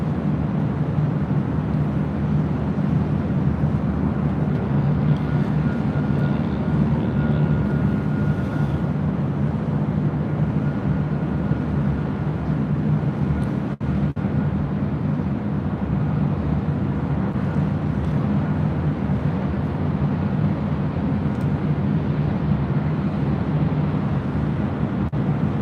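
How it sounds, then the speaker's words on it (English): A Delta Airlines Airbus A319 arriving at LAX produces a continuous low, even engine rumble and roar that stays constant and fairly distant throughout, with no talk over it. "Next arrival here on the north side is Delta Airlines flight 2267 coming in from SFO on an A319."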